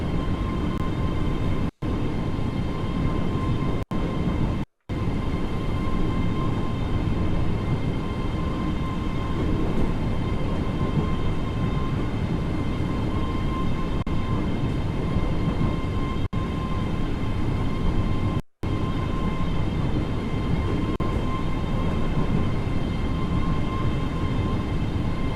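Train Sim World locomotive rolling along on the approach to Glasgow, a steady continuous rumble with rail noise and a faint whine, loud and close, broken by a few brief dropouts.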